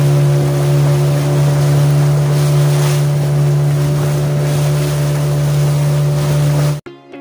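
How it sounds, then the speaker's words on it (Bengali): A speedboat carrying about ten people roars loud and steady through Middle Strait in the Andaman Islands, engine drone and rushing water constant until it cuts off abruptly at the end. "মিডল স্ট্রিটের বুক চিরে ঝড়ের গতিতে আমাদের স্পিডবোট এগিয়ে চলল।"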